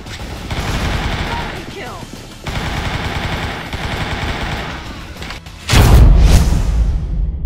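Automatic QBZ95 rifle fire in CrossFire: Legends, loud bursts of gunshots running near-continuously with short pauses, ending in a heavier booming blast, with game effects layered underneath.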